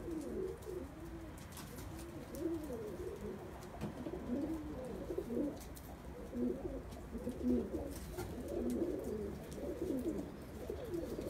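Pigeons in a loft coo repeatedly in low, throaty, overlapping calls, a soft continuous murmur with no talking.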